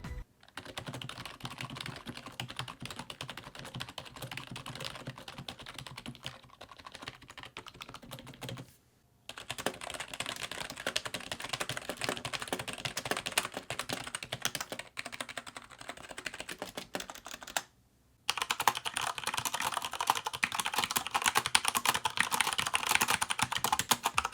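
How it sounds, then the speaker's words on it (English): Fast typing on mechanical and membrane keyboards in several bursts separated by brief pauses, with clicky and softer key sounds, close up and with no talking. "Now here's a quick sound test of all three keyboards."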